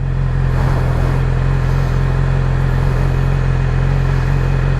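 A motorcycle engine hums steadily and fairly close as a beginner rides the bike, a constant low drone with no sharp revving throughout.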